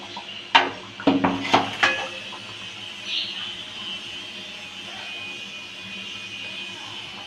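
Thin ruti flatbreads laid on a preheated stove pan: a few sharp metallic clanks and knocks at first, then a faint steady hiss as they cook, with no talking.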